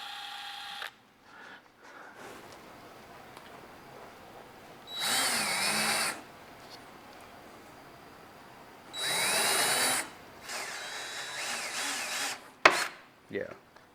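A Ryobi power drill drives a screw into wood in two sustained whirring bursts, each a couple of seconds long, with handling clicks and rustle between them, close to the listener.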